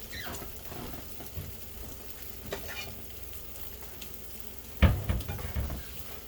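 Eggs and cheese fry in a pan with a steady, crackling sizzle and a few louder scraping bumps near the end, with no talking.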